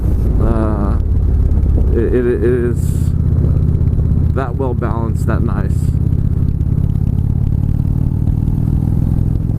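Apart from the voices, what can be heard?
2015 Indian Chieftain motorcycle engine running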